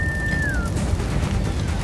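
Explosions in a Gotham Knights video game scene as a building burns down: a dense, continuous rumbling roar of blasts and crackle with a brief descending whistle near the start.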